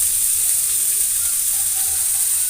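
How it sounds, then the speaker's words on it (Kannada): Spices sizzle and fry steadily in a pan for sprouted horse gram sambar, a constant close hiss with soft crackle and no talking. "ನೋಡಿಲಿ ಫ್ರೆಂಡ್ಸ್, ಚೆನ್ನಾಗಿ ಫ್ರೈ ಆಗಿದೆ."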